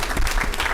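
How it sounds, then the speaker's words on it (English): Brief round of applause at a city council meeting in Paterson, New Jersey, a short burst of room clapping heard close and alone. "Let's give a round of applause to that young person."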